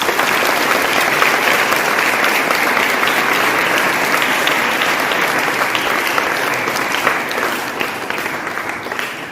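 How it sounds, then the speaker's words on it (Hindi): Audience applause at a school celebration event, a broad, sustained roar of many hands clapping at full strength, holding steady before gently tapering off toward the end. "सबके लिए ताली बजाइए।"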